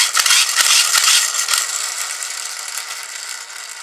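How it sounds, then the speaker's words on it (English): A plastic toy Yo-kai Blaster has its trigger pulled repeatedly, giving several quick ratcheting clicks and hissing puffs of air close by that thin out into a fading hiss, with no speech. "if you pull the trigger, it'll squirt, or rather blast out a puff of air from this hole"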